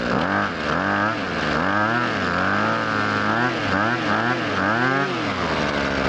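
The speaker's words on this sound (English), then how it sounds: "Now you can go ahead and rev it up a couple times." A small two-stroke engine on handheld power equipment, warmed up before winterizing, revs up and down in several rising-and-falling surges, loud and close throughout.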